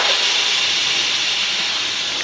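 Steam hisses steadily and loudly from a pressure cooker's manual release valve under a towel in a home kitchen, one continuous close rush of air with no voices.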